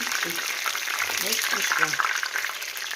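Chebureki (meat-filled pastries) sizzling and crackling in hot oil, a dense bright hiss with small pops, close by, with brief low voice sounds underneath.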